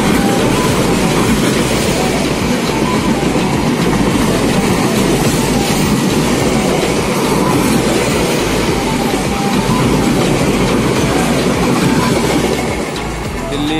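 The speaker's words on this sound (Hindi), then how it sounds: "Delhi Azamgarh special train" A Delhi–Azamgarh special passenger train rolls past close by, a steady loud rumble with rhythmic clickety-clack of wheels over rail joints and faint squeal throughout.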